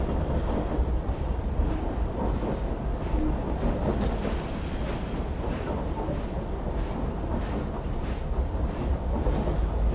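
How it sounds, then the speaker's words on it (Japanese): A noisy passenger train in the video game Assassin's Creed Syndicate, set in Victorian London, gives off a steady, loud rumble and rattle of carriages that runs unbroken for the whole stretch with no voices. "まあほら、うるさい列車だ。"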